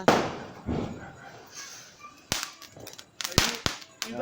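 Festive firecrackers set off by a family at a Tamil Deepam lamp celebration, a few sharp loud cracking bursts over background voices and ambient chatter.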